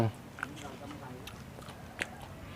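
Someone bites into thin, crispy roti and chews it, giving a few faint crunches and chewing sounds. The loudest crunch comes about two seconds in, and the sounds sit quietly under light background noise.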